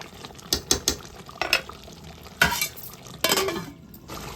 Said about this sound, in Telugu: మధ్య మధ్యలో ఇలా కలుపుకుంటూ ఉండాలి, లేకపోతే అడుగు పట్టేది. స్టీల్ కుక్కర్ కదా.